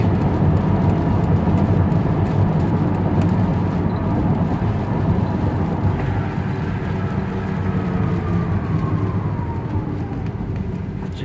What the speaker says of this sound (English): We're going to give it a hard brake